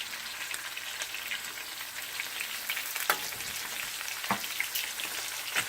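Sliced fresh garlic and onion sizzle quietly in a pan, a soft steady crackle broken by a few sharp pops and clicks, with no one speaking.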